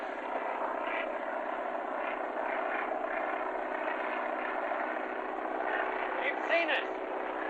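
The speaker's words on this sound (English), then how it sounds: "There's a plane coming." An aircraft engine drones steadily overhead in a 1939 aviation film, a continuous propeller hum under faint talk throughout.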